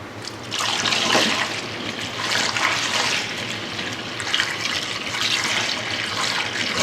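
Steady rushing water pours into a carboy continuously for several seconds, a broad splashing flow with slight surges, close by and with no voices.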